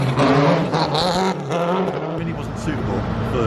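Colin McRae's works Subaru Impreza WRC rally car passes close by at low speed, its engine note swelling and fading over a few seconds while people talk nearby.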